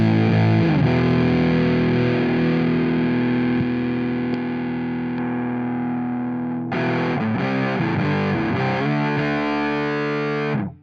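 Electric guitar played through a Muff-style fuzz pedal, with long, loud, heavily distorted sustained chords and a brief riff partway through, dark and saturated in tone, with no voices.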